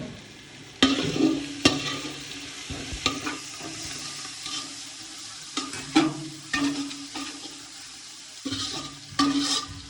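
A spoon stirs fish head muri ghonto with potatoes, turmeric and spices in a large cooking pot, giving repeated scraping strokes over a soft sizzle, close up with no talking.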